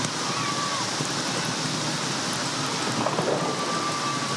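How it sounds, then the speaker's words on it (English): Heavy rain pours steadily with rumbling thunder during a football match in Pando, a dense, loud wash of water noise filling the scene without pause. "Heavy rains here in Pando."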